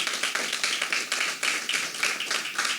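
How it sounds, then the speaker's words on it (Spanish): A church congregation applauding during a service, a fairly faint, rhythmic patter of hand claps that pulses in steady beats from a modest group, with no speech over it. "Aplaudirle, Señor."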